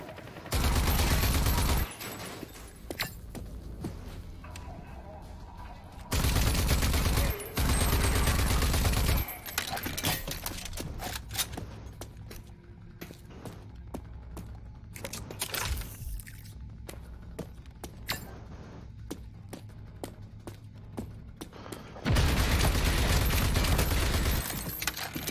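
Gunfire aimed at the player in Rage 2, with heavy bursts of shooting at the start, around six seconds and near the end, and quieter clatter and movement in between.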